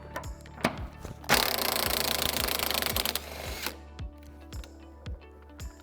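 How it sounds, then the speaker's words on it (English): An impact power tool working the rear cradle bolt on a 2015-2023 Mustang, a harsh rapid hammering burst lasting about two seconds amid regular metallic ticks and clicks in a quiet garage. "We'll start by removing the bolt for the rear part of the cradle."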